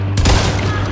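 Gunfire in Hunt: Showdown, a shotgun blast from a rooftop: one sharp loud report followed by a rolling, echoing tail over a steady low hum.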